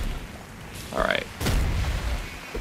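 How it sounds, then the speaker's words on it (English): Snipers blowing up in the top-down shooter Nuclear Throne: a sharp boom around the middle followed by a sustained rumbling burst, with a brief tonal game effect just before and voices in the background. "I wonder why the snipers explode"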